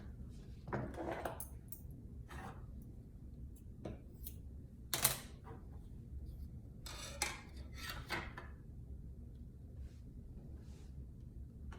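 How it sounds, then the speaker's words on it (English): Scissors snipping through fabric for a scrunchie, a series of short, crisp cuts spaced irregularly over faint background noise, close and fairly quiet. "So let's cut this fabric out."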